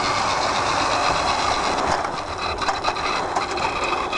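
Model locomotive running on an outdoor garden railway, approaching a curve: steady, close rolling and rattling with light clicks and clatter throughout, no talking.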